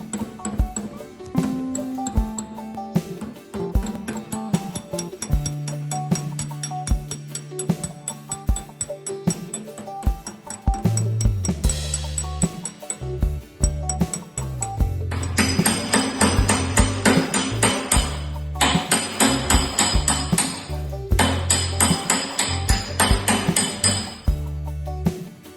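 A hammer works a dented 1930s Ford fender panel, a long run of loud, close metallic blows, sometimes spaced and sometimes in quick ringing bursts with bright clinks.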